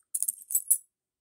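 A circulated Philippine 20 centavos coin is handled, producing a quick cluster of light metallic clicks and taps lasting under a second, close and quiet.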